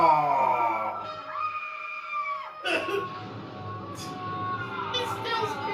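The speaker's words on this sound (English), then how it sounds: "He's still screaming." A man screams in a 1982 horror film, a sustained wailing cry under music and sound effects, followed by noisy commotion.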